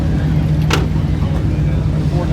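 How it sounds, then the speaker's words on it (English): A Ford Mustang engine idles steadily at a classic car show and swap meet, a continuous low rumble with a faint hum, voices and crowd noise mixing over it. "The Mustang that's running"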